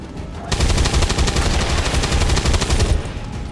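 Sustained rapid automatic turret gunfire in XCOM 2, a loud continuous burst of evenly spaced shots lasting about two and a half seconds, close and dense, alone without talk.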